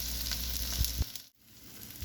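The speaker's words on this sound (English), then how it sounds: "You can see them sizzling" Cabbage fritters sizzle and crackle steadily on a hot steel griddle, a continuous close frying hiss that briefly dips before resuming.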